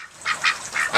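Permaculture geese give three quick, loud honks in close succession, close by with no talking.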